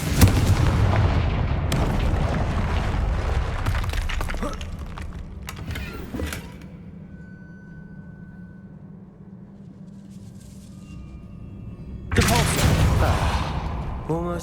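Confringo fire spells explode in Hogwarts Legacy, with loud booming blasts and cracking bursts in the first seconds, a quieter humming lull, then another forceful explosion erupting near the end, with some talk beneath.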